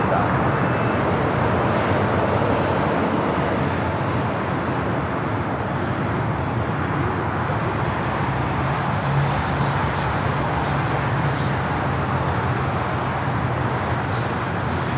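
A United heavy jet takes off from runway 25 right at LAX, a loud, steady, broad roar of engines lasting throughout, heard from the spotting area with no talking.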